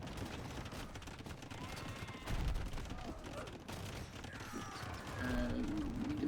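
Hand cannons firing during a medieval real-time strategy match, heard as a dense spread of crackling gunshots and mechanical clatter amid busy battle noise, with a bright tonal effect near the end.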